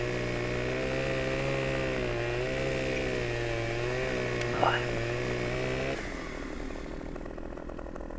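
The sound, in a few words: chainsaw cutting a tree in video game Farming Simulator 15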